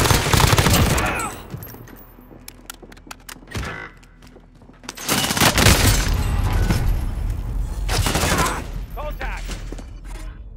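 Gunfire in the Call of Duty video game: dense bursts of automatic fire and heavy booms, loud and sustained across most of the stretch, with a brief lull before another intense volley, voices mixed in.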